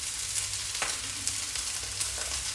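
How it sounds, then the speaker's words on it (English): Vietnamese rice noodles sizzle steadily in a hot pan while being stir-fried, a constant crackling hiss punctuated by soft scraping stirs, close and moderately quiet. "and then stir the crap out of it."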